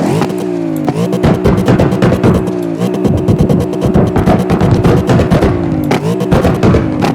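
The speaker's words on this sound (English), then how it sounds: "The pops sound" A 1036-horsepower car in CarX Drift Racing Online revs loudly and continuously, with sharp exhaust bangs and pops crackling as the revs rise and fall, and no voices.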